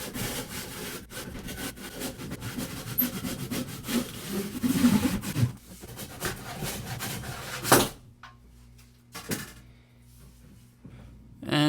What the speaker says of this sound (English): Finally cut through that big old chunk of cedar.